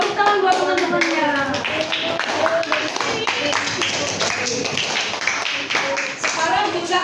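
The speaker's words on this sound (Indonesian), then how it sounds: "Tepuk tangan buat teman-temannya." Children in a third-grade elementary classroom clap their hands together in a dense, steady patter that continues for several seconds, with voices talking and calling out over the clapping.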